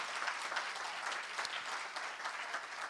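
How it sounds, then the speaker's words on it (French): An audience at a live French stand-up comedy show applauds steadily, a dense unbroken wash of clapping heard from a distance with no voices over it. "On peut l'applaudir, s'il vous plaît, merci."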